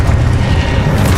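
Confringo and Exposo spell blasts in Hogwarts Legacy go off as a loud, heavy rumbling boom that fills the whole moment with deep, sustained low-end roar.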